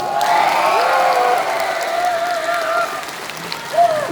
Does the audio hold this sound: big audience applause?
yes